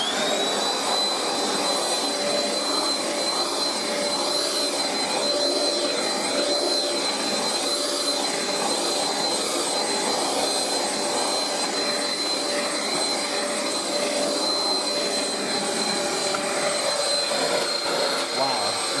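A Princess 332766 Turbo Tiger handheld vacuum cleaner runs steadily for the whole stretch, a loud, close high-pitched whirring whine with a constant motor tone and no breaks.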